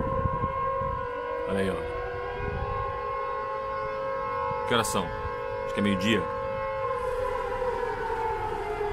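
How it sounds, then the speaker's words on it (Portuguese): A steady, wailing civil defense siren drones throughout, with a person's voice speaking briefly over it. "Parece aquelas sirenes da guerra, né?"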